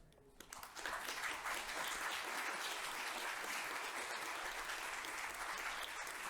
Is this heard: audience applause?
yes